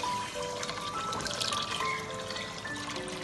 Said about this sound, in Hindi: 1 लीटर पानी डाल दिया।